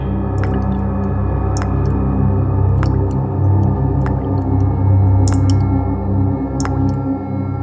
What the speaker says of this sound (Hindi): कुछ टपकने की आवाज आ रही है ना?